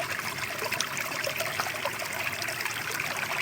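A very small creek trickles steadily close by, a continuous bright babbling wash of water over stones with no voices.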